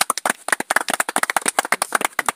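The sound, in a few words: audience applauding a newly arrived participant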